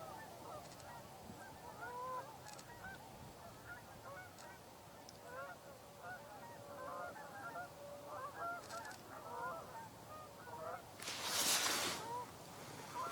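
Many Canada geese honk repeatedly in the distance, a busy overlapping chorus of calls against outdoor ambience, with a brief burst of noise near the end.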